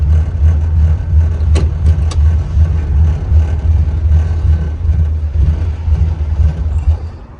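Engine of a Malibu coupe with an LS1 V8 swap and a .30-over 5.7 block, a loud, close, steady low throb with a slightly uneven lope and small revs, running throughout without a big climb.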